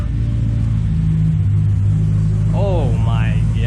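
A BMW E92 M3 with a modified exhaust idles in a loud, deep, steady drone close by, as a voice exclaims over it near the end.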